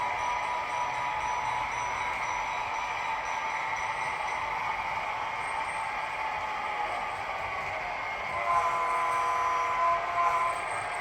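An HO scale model train runs along a home layout with a steady, continuous rolling hum and faint rail clatter, holding an even level before swelling slightly near the end as a thin high whine enters.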